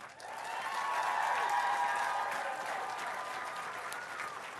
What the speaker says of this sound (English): how about another nice round of applause for our two finalists?